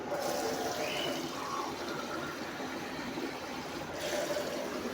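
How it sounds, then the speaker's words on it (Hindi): Water poured from a glass into a covered cooking pot of spiced taro (arbi) slices, a steady close splashing trickle lasting several seconds with a brief pause near the end. "और 1 गिलास डालूंगी इसमें मैं पानी।"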